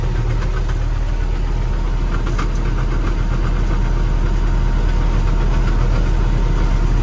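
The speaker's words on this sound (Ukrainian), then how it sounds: "Арпал працює. 1200 обертів, питань немає." Arpal tractor engine running at 1200 rpm, a loud, steady, close diesel rumble with a knocking vibration throughout and no break.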